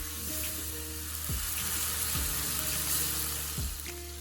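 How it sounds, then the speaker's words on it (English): Chopped tomatoes are stirred into a frying pan, giving a soft, low sizzle with a few scraping stirs and clinks over a steady low hum, fairly faint and without talking. "Chop 2 tomatoes into it and mix well."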